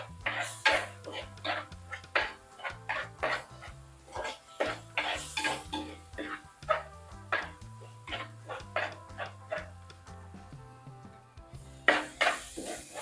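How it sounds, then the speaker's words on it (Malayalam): Tomatoes soften in a hot pan for a squid curry, with frequent metallic clinks and scrapes of a spoon against the pan, a steady rhythm of stirring knocks close by, and a faint low sizzle underneath. "തക്കാളി ഒന്ന് ചെറുതായിട്ടൊന്ന് വഴന്നോട്ടെ"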